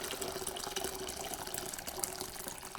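Hot water gushes steadily into a bottle, a close, continuous pouring rush with no speech, while a Danish risalamande Christmas dessert is being prepared.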